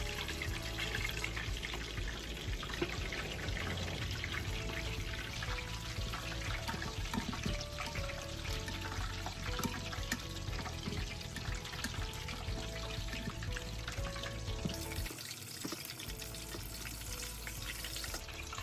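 Chicken pieces fry in hot oil on a burner at medium heat, a dense continuous crackling sizzle that stays loud and steady throughout, with a brief change in texture near the end.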